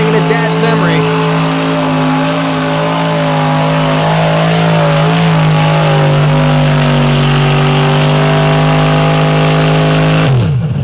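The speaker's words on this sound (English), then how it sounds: "Bogged down in the second right there." A drag racing truck at a Fastest Of The Fast DOT class event bogging down in second gear, its engine droning loud and steady with a low wavering pitch before cutting off abruptly at the end, under an announcer's commentary.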